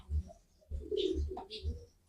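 A dove coos in courtship display, a few low soft rolling coos close by, with a voice briefly heard alongside.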